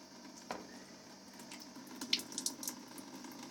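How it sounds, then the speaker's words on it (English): Water trickles and drains steadily from a removed inlet valve on a Fisher & Paykel GW612 washing machine, falling into the drum as a faint continuous flow with a few soft drips and splashes toward the end. "the water's coming out through there and falling down into here"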